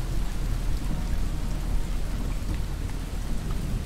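Steady rain with rumbling thunder in a Desperados 3 game scene, a continuous, dense wash of falling water and low rolls that stays loud and even throughout with no voices.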